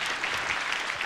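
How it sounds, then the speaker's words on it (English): Audience applause at a televised 1997 spelling bee broadcast, a continuous bright patter of many hands clapping throughout with no speech on top. "It's a well-deserved round of applause."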